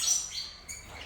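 Canário-da-terra finches in a breeding aviary give short, high, faint chirps against a quiet backdrop, with no talking.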